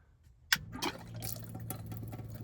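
Water runs from a campervan tap, starting with a sharp gush and then settling into a steady, faint trickle and splash.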